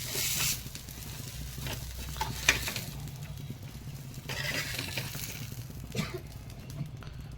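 Eggplant and red chillies frying in oil in a pan, giving a steady moderate sizzle with occasional scraping stirs and a brief louder clatter near the start.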